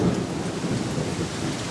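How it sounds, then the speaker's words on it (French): Loud, dense cartoon storm noise: heavy rain and rumbling thunder with a constant blustery roar of very strong wind, close and unbroken. "Il y a une tempête et un vent très fort."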